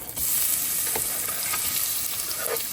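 Onion hitting hot oil and frying with a dense, loud crackling sizzle that starts abruptly and holds steady, plus a few utensil clinks.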